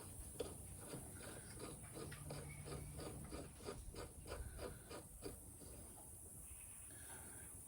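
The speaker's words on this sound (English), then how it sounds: "Now we're going to run these bolts in here through these threads now, so we don't have any problems later" Steel bolts are driven through threaded holes to chase and clean the threads, giving a quiet, rhythmic rasping scrape that repeats in steady strokes against a constant background hiss.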